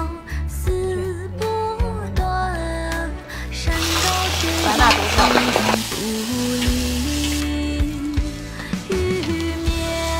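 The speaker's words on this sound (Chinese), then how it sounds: "腊肉炒一下，再用水倒一点" Cured pork stir-fried in a pan in a rural village kitchen, with a loud crackling sizzle building and rising in the middle, a spatula scraping and clanking, and a tonal musical hum running through.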